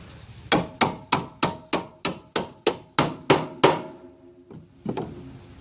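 A hammer strikes a tight trailer bolt through its hole in about eleven sharp, evenly spaced metallic taps, close and loud, followed by a pause and one softer final tap.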